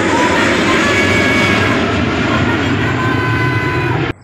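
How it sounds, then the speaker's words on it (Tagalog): An airplane sound effect gives a steady, loud roar of jet engine noise for several seconds, then cuts off abruptly. "tsaka isang eroplano"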